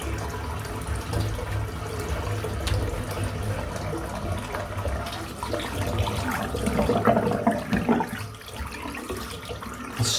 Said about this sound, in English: just going to empty the sink out and fill it back up again